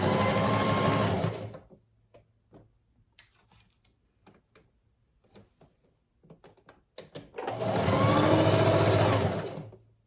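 Sewing machine stitching a drawstring waistband: a loud steady run of stitching, then several seconds of quiet ticks and handling clicks, then a second long burst of stitching.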